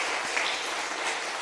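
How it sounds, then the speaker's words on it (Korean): Church congregation clapping during a Sunday morning service, a dense wash of applause filling the room briefly and evenly, without speech. "우리 박수로 좀 한번 좀 격려하면 좋겠어요."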